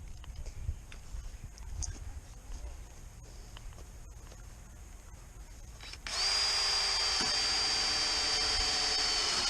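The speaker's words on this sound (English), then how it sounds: "And he's just screwing that to the bow." A power drill runs in one loud, steady burst, driving a screw to fix a wiggle wire track to the bow of a plastic-covered greenhouse, after quieter outdoor handling noises.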